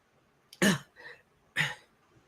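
A person imitates fake coughing and throat clearing: two harsh, deliberate coughs with a softer throat-clearing rasp between them, close and alone.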